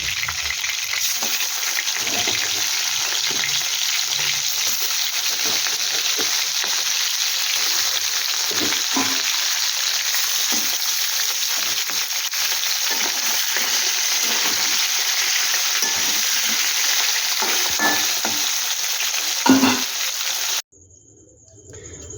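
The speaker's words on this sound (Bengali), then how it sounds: "এই বাকিটা আমি একইভাবে ভেজে নিই বন্ধুরা" Bhetki fish pieces frying in oil in a pan make a loud, continuous close sizzle with scattered crackles. The sizzle cuts off abruptly near the end.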